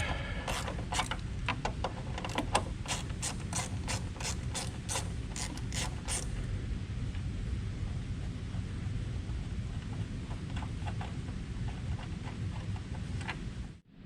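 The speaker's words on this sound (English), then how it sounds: "Get your ratchet and your 10mm socket and pull that bolt out." A ratchet fitted with a 10mm socket backs out the bolt on the coolant expansion tank of a 2024-2026 Ford Mustang EcoBoost, giving a run of quick clicking strokes that then fade to sparse, quieter clicks.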